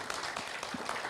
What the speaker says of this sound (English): So let's give a big applause to Prof.